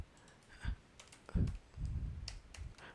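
Keystrokes on a computer keyboard while building a Bootstrap navbar, a few soft clicks and short bursts spread over three seconds, close and fairly quiet with no talking.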